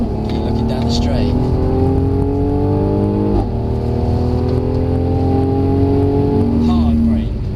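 A Mercedes-Benz C43 AMG driven hard on a track, its loud engine note climbing through revs, then dropping sharply under hard braking before rising again, with someone talking over the engine.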